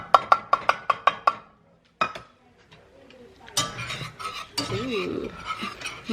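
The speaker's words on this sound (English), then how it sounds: "Now we're going to just mix it up" A spoon clinks briskly against a bowl as flour is mixed into a batter, with a fast run of sharp, evenly spaced taps followed by a lone knock, and then people talking over softer scraping.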